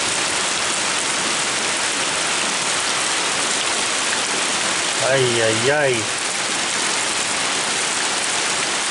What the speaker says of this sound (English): It rained like this 5 or 6 times